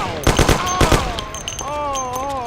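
A shootout in the video game Mafia, with a quick cluster of loud, close gunshots followed by a shouting voice.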